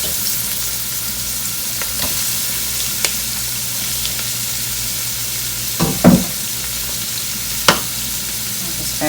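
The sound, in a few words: conch cooking in a pan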